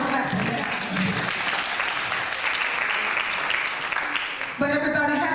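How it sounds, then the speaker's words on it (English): A convention audience claps in a hall, a broad wash of many hands running steadily, with a voice breaking in near the end. "Y'all can clap for that."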